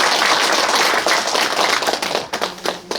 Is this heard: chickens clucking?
no